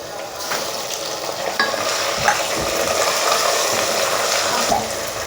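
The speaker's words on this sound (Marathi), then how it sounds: "आता हा टमाटा चांगला नरम होईपर्यंत आपण ह्याला परतून घेऊया" Chopped tomato stirred into golden-browned onion in a hot pan for masala pulao, a steady close sizzle with scraping spatula strokes running throughout, no talking.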